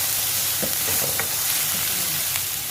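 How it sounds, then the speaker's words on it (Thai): Pounded ginger and garlic stir-fry in hot oil for chicken tikka masala, a steady close sizzle with a few short scraping stirs of a utensil against the pan. "ขิงกับกระเทียมที่เราตำไว้นะคะ เัาผัดจนหอมให้สุกนะคะ"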